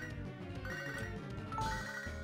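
Electronic phone-style ringing from the Pokemon SoulSilver game on a handheld, a steady tonal trill with overlapping chiptune notes running continuously for about two seconds.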